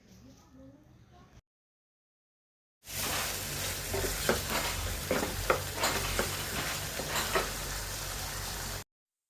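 Mutton sizzles in hot oil in a pressure cooker while being stirred, a steady loud frying hiss with scraping stir strokes, preceded by a brief quiet pause.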